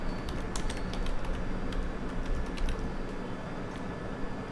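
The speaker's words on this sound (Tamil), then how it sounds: "ஸோ சர்ச் தி ஸ்டோரில் வந்து கீவேர்ட் எவ்ரிவேர்னு சொல்லி டைப் பண்ணுங்கள்." Steady typing on a computer keyboard, with rapid clustered keystrokes and short pauses close to the microphone over a constant background hiss, and no talking.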